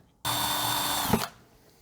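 A power drill bores a slightly undersized hole up to full size while a camper van is being fitted out, whining steadily for about a second before stopping abruptly after a short strained bump, close and alone.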